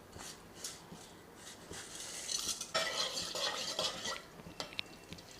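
Whole cloves and cinnamon sautéed in hot oil in a pressure cooker, with clicks and scrapes of a spoon stirring against the metal over a soft, steady sizzle, close and fairly quiet.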